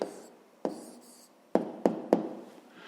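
Pen writing down an answer to a fifth-grade math exercise, soft scratching strokes punctuated by four sharp taps of the pen on paper, close and quiet with no talk.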